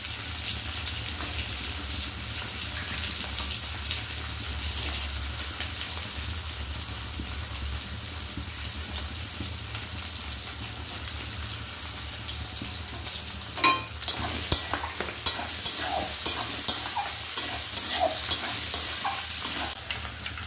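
Potato pieces frying in oil rendered from katla fish fat, a steady hiss throughout with louder crackling bursts and bubbling after about fourteen seconds, no voices.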